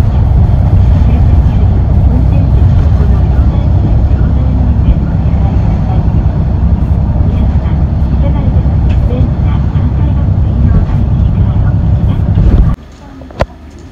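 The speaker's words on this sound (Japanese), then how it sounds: "エンジンかかりましたね、金剛駅前行き。" A city bus bound for Kongo Station in Osaka idles with a loud, close, continuous diesel rumble that cuts off abruptly near the end, leaving faint background noise.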